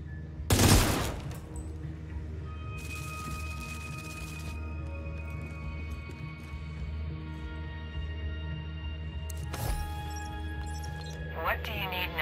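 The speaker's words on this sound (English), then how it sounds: "There is a yellow fuse box that you need to shoot in order to get behind the gate." Gunfire in the video game The Division 2: a loud opening burst of shots, then further bursts a few seconds apart over a steady game soundtrack and ambience.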